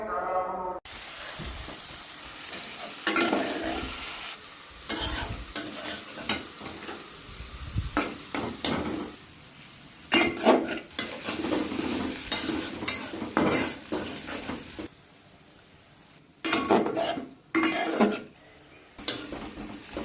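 Onions fry in a pan with a steady sizzle while a utensil stirs and scrapes them in repeated bursts, with clattering of the pan and a voice talking at times.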